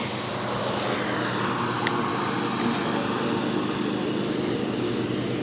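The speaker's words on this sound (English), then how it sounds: "Everybody's mowing." A lawn mower engine drones steadily somewhere in a neighborhood, a continuous distant motor hum over an evening walk with no speech.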